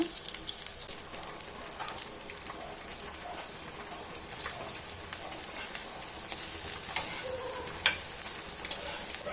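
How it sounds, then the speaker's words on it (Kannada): Brinjal frying in a pan over a low gas flame, a steady soft sizzle and crackle with scattered pops and light stirring, close and continuous with no talk. "ಬದನೆಕಾಯಿ ಗ್ಯಾಸು ಸಿಮ್ಮಲ್ಲಿ ಇಟ್ಕೊಂಡು ಫ್ರೈ ಮಾಡ್ಕೊಳ್ಳೋಣ."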